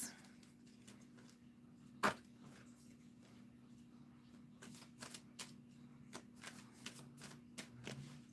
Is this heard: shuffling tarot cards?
yes